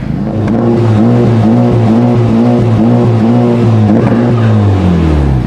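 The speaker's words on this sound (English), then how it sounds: "there's a little bit more noticeable exhaust note while sitting in the cab" A loud 2020 Honda Civic Type R aftermarket exhaust drones and rises and falls in repeated revs, ending with a dip in pitch, heard from up close inside the car.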